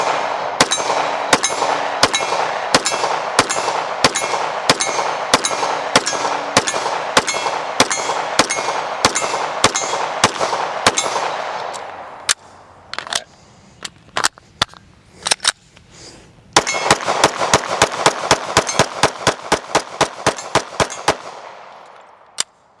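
A Canik 9mm pistol fired in a long string of sharp, evenly spaced shots, then a short stretch of scattered shots. A fast, dense burst of shots follows, loud and close, with no voices.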